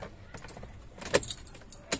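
Car keys jangle and click as the key turns in the ignition of a manual car showing a check engine light. A few short, close metallic rattles and taps come through with no talk.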